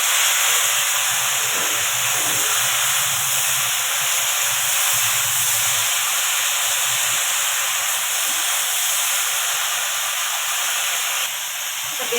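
Pui saag greens are poured into a hot, salted and chilli-spiced pan, giving a loud, unbroken sizzle and hiss that holds steady throughout.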